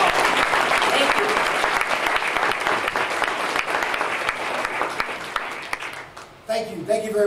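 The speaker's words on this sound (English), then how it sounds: "please let's give our President Abdullah a round of applause" An audience at a Virginia State University hemp field day gives a university president sustained, loud applause that continues steadily for several seconds and then fades near the end.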